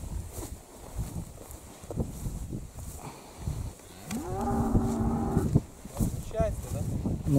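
Cattle out at pasture give a long, low moo mid-clip, with another shorter call soon after. Rustling, footsteps and faint voices of people herding them sit underneath.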